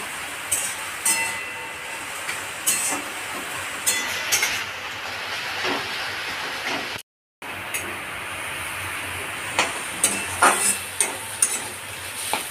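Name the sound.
frying taro leaves in a pan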